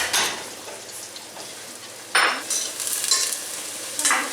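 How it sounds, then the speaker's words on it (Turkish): Onions sautéing in melted butter and oil, a soft crackling sizzle with stirring scrapes and a few louder bursts as the pan is worked, close by with no talking. "Şimdi tereyağını sıvı yağla birlikte erittikten sonra üstüne soğanlarımızı ekliyoruz. Soğanları pembeleşene kadar kavuracağız."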